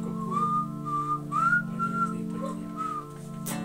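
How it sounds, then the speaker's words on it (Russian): A person whistles a wavering melody during an impromptu band rehearsal, several sustained tones rising and falling over a steady low hum, fairly close and without talk. "А я могу свистеть вместо этой"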